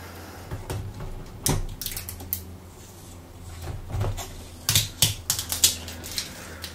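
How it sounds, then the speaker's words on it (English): A white protective sticker is peeled off an iPhone 6 clone phone, giving scattered crackling, tapping and rustling bursts at close range with no talking, growing busier toward the end. "Let's go ahead and peel that off."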